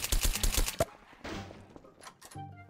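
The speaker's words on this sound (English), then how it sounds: "Oh, he's shooting!" Gunfire in Garry's Mod DarkRP opens the clip as a rapid burst of loud shots and cuts off sharply, followed by scattered quieter game noises and a faint tone.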